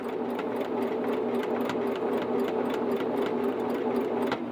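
Sewing machine running a zigzag stitch, a steady close mechanical whir with rapid regular needle ticks throughout, loud and uninterrupted.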